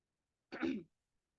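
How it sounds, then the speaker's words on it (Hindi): A single short cough, muffled and brief, in otherwise quiet surroundings. "जोर से खांसी आ गई"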